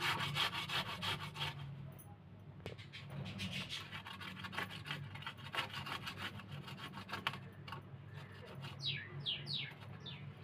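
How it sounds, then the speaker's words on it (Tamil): Raw potato grated against the rough edge of a coconut shell, a steady scraping rasp repeated in quick strokes, close and continuous with faint birdsong chirping in the background toward the end. "பாருங்கள், இந்த அளவுக்கு நல்லா இந்த தேங்காய் சொண்டத்தில் இந்த மாதிரி சீவை எடுத்துக்கலாம்."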